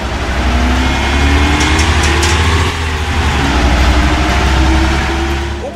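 Bus engine idling in the OMSI 2 bus simulator game, a loud steady low rumble with a constant throbbing drone, alone and unchanging, with a faint higher whine layered on top.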